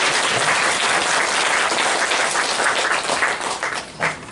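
A church congregation gives a long round of applause for the year's volunteer Sunday school teachers as they stand, a dense, loud wash of many hands clapping that fades and briefly swells again near the end.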